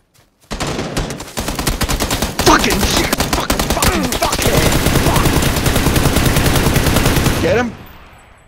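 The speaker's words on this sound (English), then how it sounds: "I shot him like 5 fucking times." Automatic gunfire in the PUBG video game, a dense, fast rattle of shots lasting about seven seconds with a few brief gaps, loud and close, with faint voices of players underneath.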